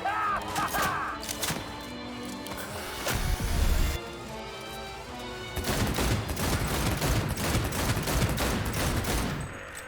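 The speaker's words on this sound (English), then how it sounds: "God, I love the sound of this pistol." Pistol gunfire in the video game Cyberpunk 2077, sharp repeated shots cracking through loud game music, with a dense volley in the second half and occasional heavier thuds.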